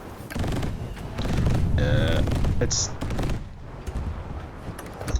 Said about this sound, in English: Sure, automatic cannon.